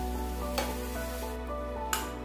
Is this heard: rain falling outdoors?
no